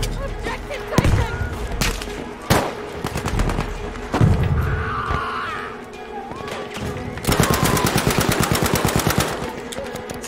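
Rapid automatic gunfire in the video game Battlefield 5, loud sustained bursts of machine-gun fire with scattered single shots and thuds, close and dense, especially in a long final burst.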